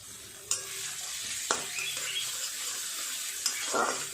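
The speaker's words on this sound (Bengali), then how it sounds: "পেঁয়াজটা একটু ভাজা হয়ে গেছে, এর মধ্যে দিয়ে দেব রসুন বাটা।" Onion paste sizzles in a hot pan as garlic paste goes in, a steady frying hiss broken by a few sharp clinks and scrapes of a spoon against the pan.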